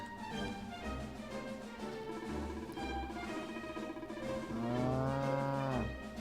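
A cow in the game Dragon Quest XI S lets out a long, drawn-out moo, rising and falling in pitch with a second swell near the end, loud and close over low background game music.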